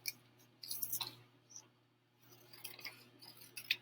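Scissors cutting printed paper around a table, quiet close snips and paper rustles in two short bursts separated by a brief pause.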